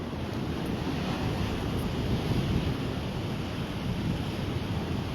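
Powerful ocean surf sweeps in and surges over coastal rocks, a loud continuous roar of crashing water mixed with wind noise on the microphone, steady throughout with no talking.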